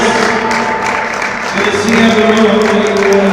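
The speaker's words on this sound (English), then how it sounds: "And you hear the applause here." Crowd applause fills a gym at a GNASH senior basketball game, steady and loud throughout, a dense wash of clapping with tonal crowd and gym noise underneath and no clear speech.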